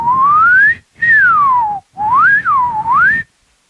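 Solo human whistling in four phrases: a tone gliding upward, then one sliding downward, then a wavering wobble rising and falling twice, close and clear with short pauses between.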